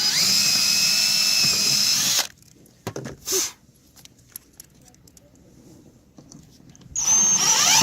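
A power drill drives a screw into a diving board mount on a Qwest Avanti LilliPad installation, whining loudly for about two seconds, then going quiet amid a few clatters and taps before spinning up again at the end.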